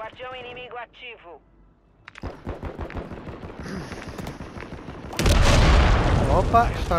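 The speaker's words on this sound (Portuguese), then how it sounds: "Opa, estouraram tua bomba." Gunfire and a heavy explosion from a bomb going off in the Call of Duty video game build to a loud, dense blast near the end, with voices talking over the action.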